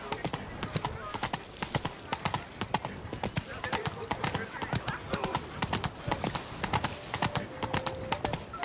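Horse hooves clip-clopping in The Witcher 3 video game, a steady rapid run of close hoof strikes throughout, with someone talking over the hoofbeats.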